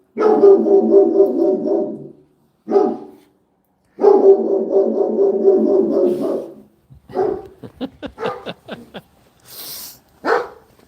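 A dog barks in long, loud, repeated bursts close by, broken by short pauses, then shorter, sharper barks and yips near the end, with no one talking over it.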